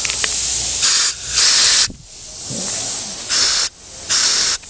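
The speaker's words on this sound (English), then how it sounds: "We might try and clean it out with compressed air." Compressed air is blown in loud, harsh bursts through the carburettor of a 1968 Commer 2500 van, several hissing blasts of a second or two each separated by short pauses.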